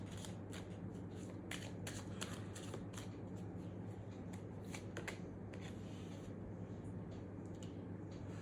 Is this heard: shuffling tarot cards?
yes